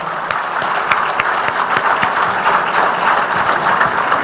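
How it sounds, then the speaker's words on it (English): A crowd applauds at a groundbreaking ceremony for a new Syngene facility, a dense, steady wash of clapping with no break. "she deserves a huge round of applause"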